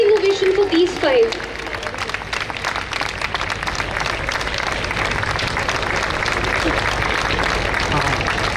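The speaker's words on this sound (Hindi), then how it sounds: "एक बार जोरदार तालियां and standing ovation for these 5" An alumni talk show audience gives a sustained round of applause and a standing ovation, a dense, even wash of clapping that carries on after a brief voice at the start.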